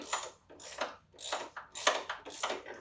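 Ratchet wrench working loose the rear shock absorber bolts on a vehicle, a close, steady run of rapid clicking strokes in repeated bursts with short pauses between them.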